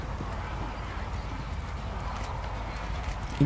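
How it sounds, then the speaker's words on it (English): A dressage horse performs an extended trot at a Grand Prix festival, its hooves beating a steady, quick clip-clop rhythm on the arena surface, moderately close, with a soft background hum. "The extended trot."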